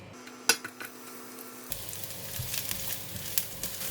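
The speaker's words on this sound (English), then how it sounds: "The oil is super hot now, so I'm going to put in the shallots." Shallots dropped into very hot cooking oil: a few clinks of utensils, then from about halfway a steady bright sizzle of frying begins and continues, fairly quiet with small pops.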